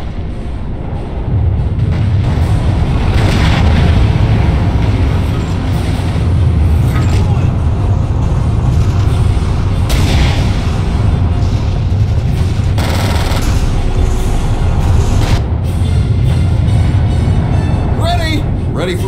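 Tank artillery fire in the Order of War strategy game: dense, loud rumbling bursts of gunfire and explosions roll on continuously under a loud battle soundscape, with voices heard over the din.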